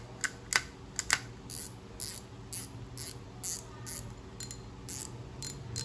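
The clicker ratchet of a Japanese spinning fishing reel gives off rapid, crisp clicks in irregular bursts, a few sharp and close, over a quiet background hum.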